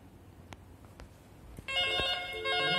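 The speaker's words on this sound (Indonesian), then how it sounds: "Oke, berdering." An analog telephone on a Panasonic PABX extension starts ringing partway through, a steady electronic trill with layered tones that sounds loud and close after a quiet stretch of faint room noise.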